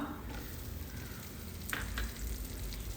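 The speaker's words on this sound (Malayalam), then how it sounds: "ഇതിലോട്ട് ഒരൊറ്റ സവാള വളരെ കനം കുറച്ച് നീളത്തിൽ എരിഞ്ഞതൊന്ന് ചേർത്ത് കൊടുക്കാം" Thinly sliced onion fries in a pan with a soft, steady sizzle and crackle, joined by a few faint stirring scrapes, quiet and close with no talking.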